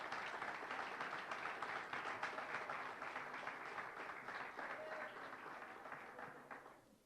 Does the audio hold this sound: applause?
yes